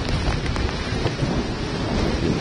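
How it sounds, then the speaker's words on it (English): A thunderstorm on Long Island fills the air with a dense, steady roar of heavy rain and deep rumbling thunder, loud and continuous throughout. "I just want to show you this thunderstorm."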